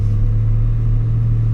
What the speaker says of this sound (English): there's a lot of drone in this truck. And what I mean by that is, like, there's a lot of engine noise.